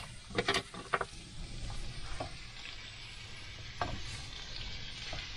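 Food frying in a well-filled pan inside a campervan, a soft continuous sizzle broken by a few sharp scrapes and clicks of stirring early on, quiet and close with no talking.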